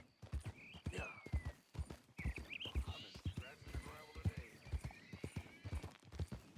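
Horse hooves clip-clop in a steady rhythmic gait in the Red Dead Redemption 2 video game, with a whinny rising partway through and a voice talking over the hoofbeats.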